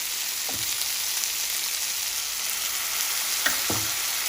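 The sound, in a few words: kimchi fried rice sizzling in pan as sauces are added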